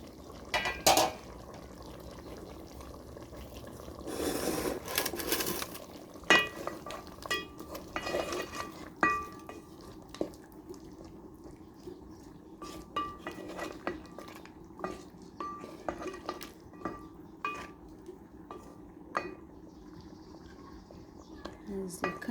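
Tomato and green pepper added to a pot of biryani: soft clatter of utensils against metal, brief scraping and stirring, with a faint steady background hiss, fairly quiet and close.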